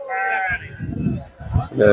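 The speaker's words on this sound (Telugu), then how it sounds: "గొర్రెలు ఇవి" Sheep bleat at a weekly sheep and goat market in Ichoda, loud and close, with a few short calls and a busy background.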